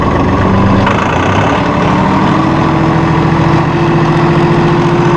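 A Massey Ferguson 2604H small-chassis 2WD utility tractor runs in fourth gear, low range, its diesel engine giving a loud, steady, close drone with a low hum that firms up as it pulls.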